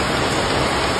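Heavy rain pours down in a steady, dense hiss that fills the whole moment evenly, loud and close, with no voices over it.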